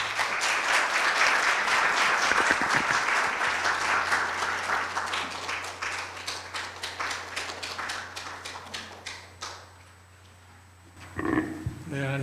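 Seated donors at a Korea University health forum applaud to welcome a dermatology professor, with crisp, loud, individual claps that thin out and fade to near silence before a voice starts speaking.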